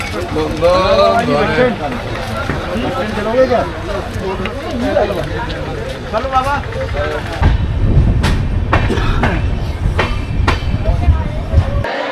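A long-distance train from Kolkata to Rajasthan rumbles along the rails with a steady clickety-clack that grows heavier and louder midway. A voice talks over the running train for much of the time.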